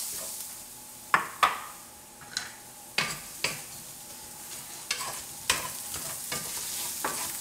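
Onions sizzling in a pan while being stirred for stuffed acorn squash with sausage, a steady fry hiss broken by repeated scraping strokes of a utensil about every second, close and alone.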